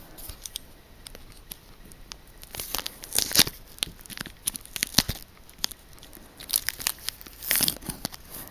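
Scissors cutting open the top of a Yu-Gi-Oh card booster pack wrapper: a series of close, crisp snips and crinkles of foil packaging in irregular bursts, with no talk.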